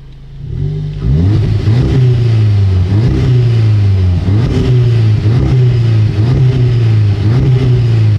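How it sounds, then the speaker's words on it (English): Car with a resonator-delete exhaust, heard close and loud: a steady idle rumble broken by a series of quick throttle blips that each rise and fall sharply. "I'll do a couple of revs."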